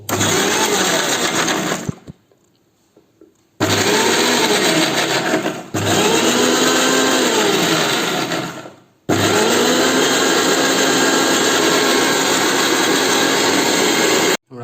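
A kitchen mixer grinder whirs loudly while grinding kanthari chilli masala, running in three close bursts separated by short pauses, its motor whine steady and harsh.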